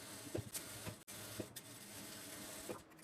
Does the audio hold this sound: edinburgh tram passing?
no